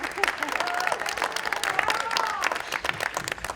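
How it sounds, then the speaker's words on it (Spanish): An audience of Ñuñoa neighbours claps at a community discussion, steady dense applause throughout with a few whistles or cheers rising above and murmured voices mixed in. "abierto aplausos ahora"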